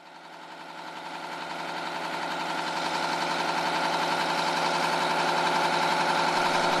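A large early-20th-century engine runs at the Western Minnesota Steam Threshers Reunion with a loud, continuous, rhythmic mechanical drone that swells steadily louder over nearly seven seconds.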